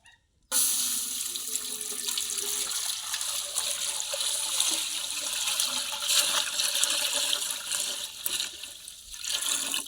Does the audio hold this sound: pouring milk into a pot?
yes